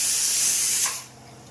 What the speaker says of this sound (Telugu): సో ఇప్పుడు వచ్చేసి వాటర్ అయితే వస్తూ ఉన్నాయి